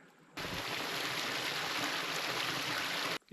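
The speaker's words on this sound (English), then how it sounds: "A few hundred metres down from Blue Waterholes Saddle is this little stream" A small unmapped mountain creek below Blue Waterholes Saddle on the Australian Alps Walking Track rushes and babbles steadily, a close, broadband wash of water that starts abruptly and runs unbroken for about three seconds.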